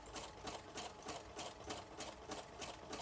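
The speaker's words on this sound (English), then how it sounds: "So I don't tend to sew quite as fast when I'm using the cotton lace." Sewing machine stitching cotton lace onto a junk journal page at a moderate pace, a steady rhythmic whirring with regular needle pulses roughly every third of a second, close and fairly quiet, no talking.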